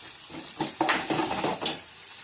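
Carrot curry stirred in a frying pan, a low sizzle under a burst of scraping, clattering spoon strokes in the middle before it settles back to a quiet fry.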